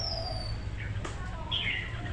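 Birds kept by local residents near a home give a few faint, short chirps over a steady low background rumble.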